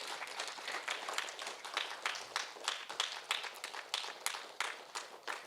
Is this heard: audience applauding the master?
yes